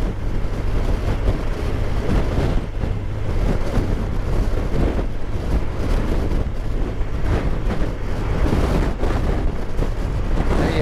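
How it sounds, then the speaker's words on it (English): Loud, constant wind buffeting on a BMW R1200RT motorcycle riding along the coast at Portland, Dorset, with deep rumbling roar and no clear engine note or voices. "Oh, that's blowy."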